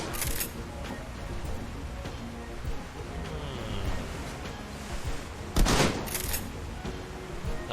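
Shotgun blasts in the Shadowrun Hong Kong video game, several sharp bursts with one loud report near the middle over a steady game ambience, with someone speaking at times.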